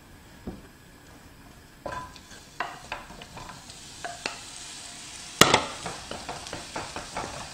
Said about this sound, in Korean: 양파는 중간 불이나 약한 불로 볶아주세요.